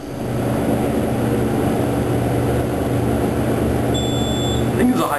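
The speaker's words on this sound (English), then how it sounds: "It feels like a hydraulic. If it is, the motor is very, very quiet." A hydraulic elevator climbing toward the third floor of 300 Jericho Quadrangle, its quiet motor a steady low hum inside the cab that does not let up, with brief high electronic tones near the end.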